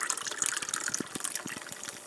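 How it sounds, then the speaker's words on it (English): Pineapple sparkling water being poured into a mug, a faint trickling and splashing of liquid with small fizzy drips, heard alone and close up. "pineapple sparkling water into this mug."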